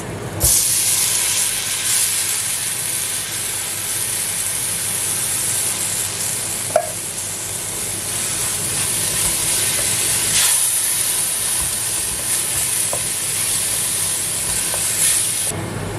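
A can of tomatoes is added to a hot pan of rice and red lentils, giving a steady, loud hiss and sizzle that runs unbroken throughout, with no talking.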